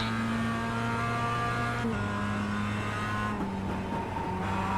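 A production race car at Lime Rock Park in the iRacing sim gives a loud, continuous engine drone with steady harmonic tones that dip and shift as the revs change on corner exit.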